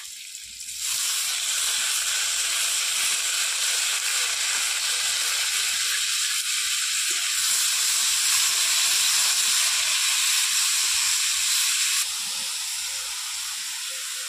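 Carrot and chopped tomato frying in hot oil give a steady, loud hiss that swells partway through and eases slightly near the end, with no voices.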